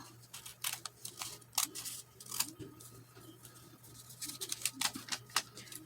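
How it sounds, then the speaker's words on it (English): Scissors snip through paper in quick, close, quiet cuts while shaping the back wings of a paper butterfly, the crisp clips coming in irregular clusters. "first I'm going to cut it out. I'm going to cut it out."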